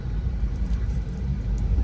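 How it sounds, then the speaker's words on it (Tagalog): Steady low rumble of road traffic crawling through Mandaue, a dense, continuous drone of car engines and tyres held close and even throughout with no voices. "Traffic dito sa may Mandawi."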